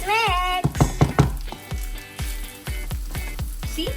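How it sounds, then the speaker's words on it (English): Basmati fried rice with saffron and herbs being stirred in a pan, heard as close, steady rhythmic scraping and soft thumping strokes, with a brief voice at the start. "So you mix like this."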